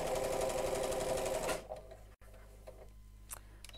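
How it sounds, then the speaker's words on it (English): A sewing machine stitches fabric along piping, a loud steady rapid whirr for about a second and a half before stopping, followed by quiet room noise with faint clicks. "Try and stop with the needle down when you stop sewing because that'll help you keep your stitch line straight."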